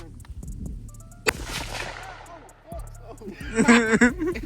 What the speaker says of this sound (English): we finna go ahead and shoot the Draco